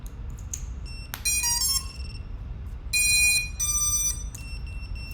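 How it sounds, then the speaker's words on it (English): Repeated electronic beeping tones from a DJI FPV device left powered with its battery connected, sounding in several bright bursts over a steady low background hum, nearby and alone with no talk. "that's the tone or beeping from vFly"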